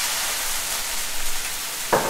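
Steady hiss of port wine sizzling as it deglazes a hot pan, with a brief louder spatter near the end.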